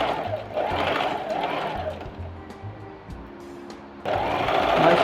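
Domestic sewing machine stitching fabric for gathered ruffles, its motor running in fast rhythmic bursts with short pauses between runs, close and fairly loud with no voices.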